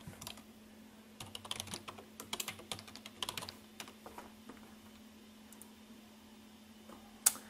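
A new password is typed on a computer keyboard: a quiet, irregular run of soft key clicks in bursts, then a pause and one sharper final keystroke.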